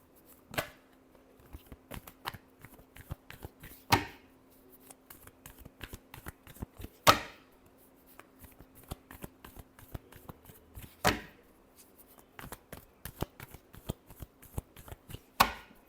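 Tarot cards are shuffled quietly and close, with soft riffling bursts broken by a few sharper slaps at intervals over a faint steady hum.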